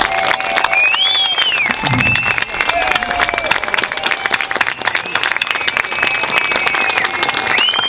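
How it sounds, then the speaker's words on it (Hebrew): A crowd at an outdoor rally supporting Second Lebanon War refusers breaks into sustained applause, dense clapping with whistles and scattered voices, close and loud for the whole stretch. "תנו לו קצת מחיאות כפיים."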